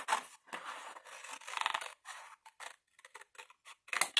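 Scissors cut a paper tab for a Harry Potter mini album: a string of short, crisp snips and slicing strokes, close and quiet, with small pauses between cuts.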